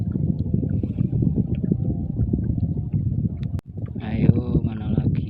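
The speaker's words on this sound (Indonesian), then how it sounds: "Anginnya nggak berhenti dari pagi sampai sekarang ini." Strong wind blows steadily outdoors at a fishing spot, a continuous low rumbling buffet across the microphone, with what sounds like a voice or handling noises in the final seconds.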